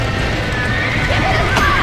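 Horse whinny from the Red Dead Redemption video game, a short rising neigh near the end over a steady bed of game noise and music, with faint voices in the background.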